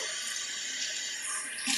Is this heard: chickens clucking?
no